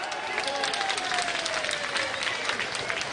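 A crowd at a Jhilmil mandal political gathering claps loudly for party office-bearers, dense sustained applause with voices mixed in throughout.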